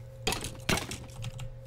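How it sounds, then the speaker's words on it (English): A few sharp keyboard clicks tap out irregularly, close and crisp, over a faint steady electronic hum, from a keyboard used while playing Minecraft. "I'm pretty sure you guys can hear my clickings. All my keyboard clicks."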